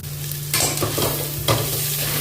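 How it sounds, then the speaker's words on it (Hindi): Biryani masala, turmeric and salt are stirred through in a frying pan, with a soft steady sizzle and two scraping strokes of the spoon against the pan, close by and with no talking. "अच्छे से मिक्स कर लेंगे एक बार"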